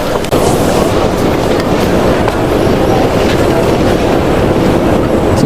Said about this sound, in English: This is the train that takes us to Newark.